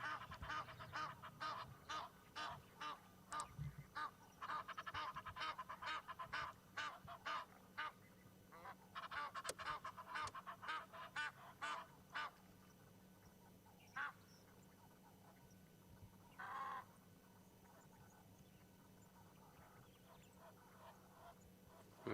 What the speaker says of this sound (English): those Egyptian geese